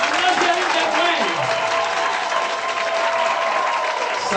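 A church congregation at a Saturday worship service claps and cheers for Jesus, a dense, steady wave of applause with crowd voices mixed in, loud and sustained throughout.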